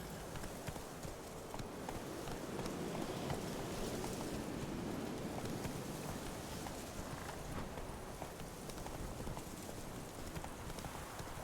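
Horse hooves trotting in The Witcher Wild Hunt, a steady, dense clatter of hoofbeats under a continuous, even wash of outdoor noise, unbroken throughout.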